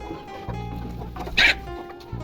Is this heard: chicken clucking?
yes